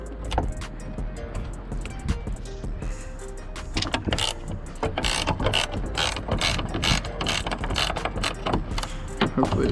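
A ratchet wrench loosens 13 mm bolts on an old pickup truck, giving repeated quick clicking bursts up close, fairly quiet, with no talking.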